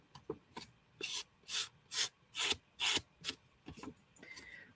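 Nail file rasping linen fibers off a paper edge in a series of short, close, dry scraping strokes with brief pauses between them, the middle strokes loudest and steadiest.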